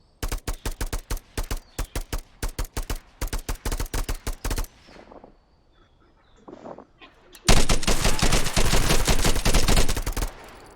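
Rapid gunfire from the VR shooter game Contractors VR, first in evenly spaced loud bursts, then a near-silent pause, then a long sustained automatic volley.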